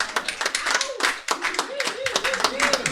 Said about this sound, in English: Let's give a round of applause to Elizabeth Hangan.